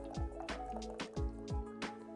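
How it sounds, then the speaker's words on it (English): Tap water poured out of a container holding tomatoes, with repeated glugging drips and splashes in an uneven rhythm, close and moderately quiet. "I'll just pour out what's happening here with these tomatoes and the tap water"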